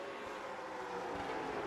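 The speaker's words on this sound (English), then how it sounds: "These are one of the best sounding cars in the game." Late model race car engines in the iRacing simulation at North Wilkesboro, a steady, droning engine roar held at constant pitch and level, no voices.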